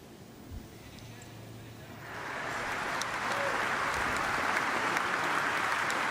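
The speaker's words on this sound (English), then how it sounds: "Ja, da kann man applaudieren." Audience applause at CitizenCon, a live gaming convention: a quiet room with low murmuring gives way after a couple of seconds to loud, sustained crowd clapping that fills the rest of the clip.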